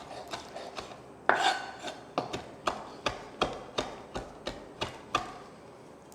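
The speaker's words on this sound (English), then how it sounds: "I'm just going to give them a rough chop" A knife roughly chopping fresh herbs on a board for focaccia, a dozen or so crisp, fairly even taps and scrapes, close and quiet with no talk.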